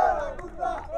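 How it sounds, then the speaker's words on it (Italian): Baiano football fans celebrate in the stadium stands, a distant crowd roar of cheering voices rising and falling over about a second. "festeggiano i tifosi del Baiano inquadrati da Vaselli"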